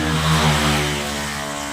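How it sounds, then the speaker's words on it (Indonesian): Motorcycles pass along a roadside at a district border, giving a steady, loud engine drone that swells slightly and then eases, with no voices over it. "banyak berisik motor-motor"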